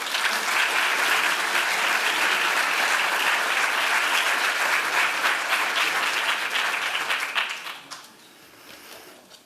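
Audience applause greets visiting artist Christo at a lecture, a dense steady clapping from a large crowd that holds strong for about eight seconds before thinning and fading.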